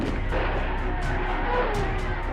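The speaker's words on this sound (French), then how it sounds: "des coups de feu éclatent" Gunfire bursts out on the forecourt of Notre-Dame cathedral in Paris during the 1944 liberation, sharp repeated cracks at irregular intervals over a dense, loud crowd din.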